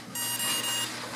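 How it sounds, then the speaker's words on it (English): An alarm buzzer starts up with a loud, piercing, high-pitched steady beep lasting about a second, heard close and alone. "There's the super loud beep."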